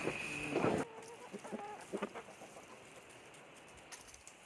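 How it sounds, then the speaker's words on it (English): A large farm rooster gives a loud short call, then several quieter scattered clucks from nearby fowl with soft background noise. "Man, that rooster's huge."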